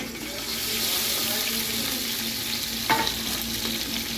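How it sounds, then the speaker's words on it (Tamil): Mutton frying lightly in oil in a pot, a steady close sizzle with a faint stirring scrape partway through. "கொஞ்சம் எண்ணெயில் ஃப்ரை பண்ணிவிடுங்க"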